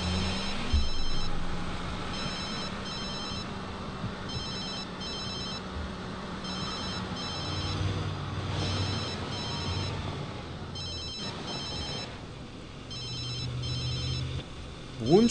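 A telephone in The Sims 3 rings repeatedly in short regular bursts, steady and clear, over quiet game background music.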